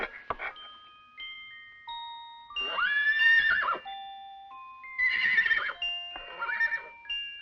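A tiny horse in a monster movie gives several loud, shrill whinnies and neighs over sparse orchestral notes. Pauses separate the calls.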